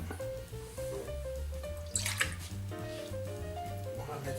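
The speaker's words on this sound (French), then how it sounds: "On va commencer par verser nos ingrédients liquides, à savoir le lait" Milk and other liquid ingredients for a Vendée brioche are poured into a mixing bowl, a soft continuous trickle and splash, quiet and close, over low background hum.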